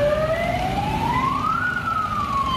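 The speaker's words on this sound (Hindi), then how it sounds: "कई पुलिस वाले सायरन बजाते हुए उस हाउसिंग सोसाइटी में पहुंचे" Police cars arriving at a housing society with sirens on; one siren tone sweeps slowly upward and then falls, loud and close over low road rumble, and cuts off abruptly.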